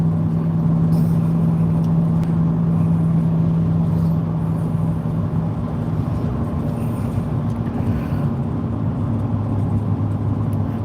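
A car engine drones steadily in a video game, a constant loud motor hum with a sustained low tone that holds throughout with no talking.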